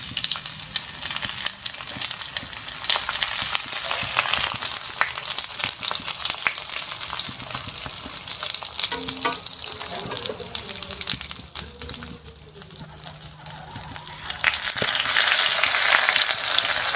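Ayurvedic herbs and roots frying in a pan of oil, a constant loud sizzle and bubbling crackle running throughout, dipping briefly near the end before swelling again.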